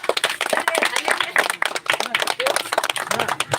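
Loud, dense clapping from an audience at a live comedy show's cricket prize presentation rattles on steadily, with a voice speaking over it.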